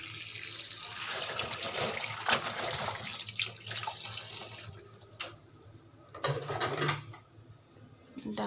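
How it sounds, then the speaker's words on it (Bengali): Water poured from a tap to soak lentils, a steady splashing stream into a pot that stops and restarts, close and moderately loud. "ডালটা বসিয়ে দেওয়া লাগবে। সাধ্য হয়ে গেছে, ডালটা বসিয়ে দেওয়া লাগবে। ডালটা একটু ভিজিয়ে নিয়ে আমি"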